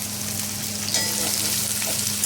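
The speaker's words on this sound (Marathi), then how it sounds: "मस्त लाल होईपर्यंत याला परतून घेऊया" Chopped onions for prawn biryani frying in a pan, making a loud, constant hissing sizzle with faint stirring underneath and no voices.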